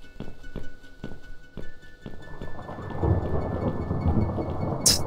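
Thunder rolls through a video game thunderstorm with steady rain, opening with rhythmic dull thuds before a rising, rumbling swell of storm noise that builds louder toward the end.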